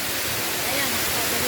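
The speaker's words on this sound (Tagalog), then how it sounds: "Ayan na po ang Hinulugang Taktak." Hinulugang Taktak waterfall in Antipolo roars as a dense, steady wash of falling water, loud and unbroken throughout the short stretch.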